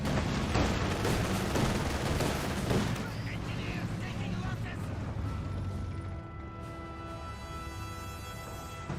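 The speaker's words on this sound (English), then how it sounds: "Grenadier firing Panzerfaust" In Company of Heroes 2, a German Grenadier fires a Panzerfaust amid battlefield gunfire: dense blasts and shots crowd the first few seconds, then settle into a softer rumble with a steady tonal hum.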